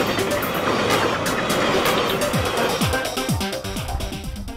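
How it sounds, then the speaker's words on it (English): A commuter rail train rushes past close by at speed, a loud roaring wash of noise with rhythmic clattering wheels on the rails, easing slightly toward the end. "That train that just went behind me,"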